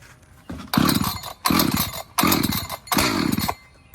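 An ECHO Timber Wolf CS-590 chainsaw is pull-started on choke, with four loud, close bursts of the engine turning over in a rhythmic series, each cutting out after about half a second, and no talking.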